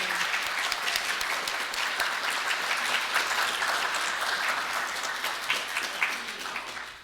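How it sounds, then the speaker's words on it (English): A round of applause for three contributing families at a family church service, steady dense clapping from a gathered audience lasting several seconds before tapering off at the end. "Now we'll give a round of applause to all 3 of the families that contributed."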